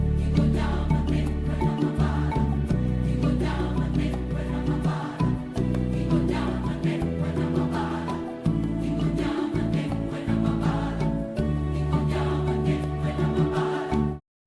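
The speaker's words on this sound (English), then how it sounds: "In The Lion King, traditional African drums like the djembe from the Mayan Empire or the junjun with its bass sound set the scene of the African savanna" Traditional African drums such as djembe and deep bass junjun drive the opening number of The Lion King musical, steady rhythmic hits layered under dense orchestral music and singing throughout.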